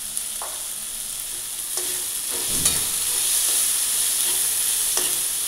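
Tomato and onion frying with a little salt in a pan over a low gas flame, a steady sizzle broken by occasional scrapes and clinks of stirring, close and without talk.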